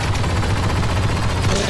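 Heavy gunfire in Star Wars Battlefront II, a continuous rapid stream of loud blaster shots with a booming low rumble underneath, steady throughout the short burst.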